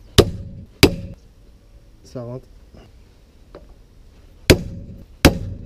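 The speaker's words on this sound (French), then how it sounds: "je préfère prendre un marteau anti-rebond" An anti-rebound hammer strikes a wheel bearing into place on a Lexus or Toyota car. There are sharp, near metallic blows, two early and two late, with a brief squeak and someone talking between them.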